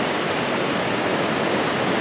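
Oneida Falls in the Columbia River Gorge, a dense, steady rush of falling water, loud and close, with no voices over it.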